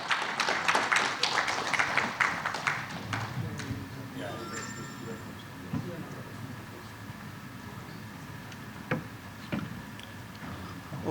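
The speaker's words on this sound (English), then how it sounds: "Let's applaud for Mr. Rishabh Agarwal." An audience at the CHEMLOG India 2025 conference applauds a speaker: a burst of clapping in the first few seconds thins out and fades, and a voice speaks over the fading applause.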